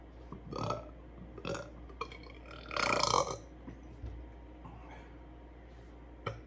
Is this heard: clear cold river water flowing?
no